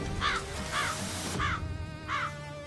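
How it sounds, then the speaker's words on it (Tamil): Four short, harsh crow caws ring out at a steady rhythm, each one clear and fairly close, in a Tamil TV drama scene with a low background hum and no talking. "காகம் ஏன் இப்படி கத்துது?"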